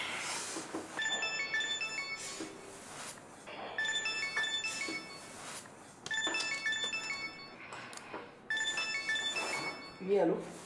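A telephone rings in repeated electronic bursts, four trilling rings separated by short pauses, fairly faint indoors, with a voice briefly audible near the end.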